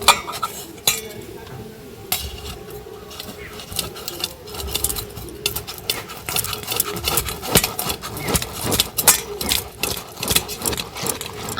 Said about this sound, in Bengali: এবার একটা গ্রেটারের সাহায্যে গ্রেট করে নেব।